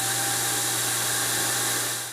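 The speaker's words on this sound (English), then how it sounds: "You just heard the base station vacuum go off via the auto emptying feature." A Eufy S1 Pro robot vacuum base station runs its auto-emptying suction, a loud, steady roaring whoosh with a constant hum that holds for two seconds before cutting off.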